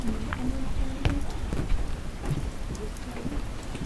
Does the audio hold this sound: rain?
yes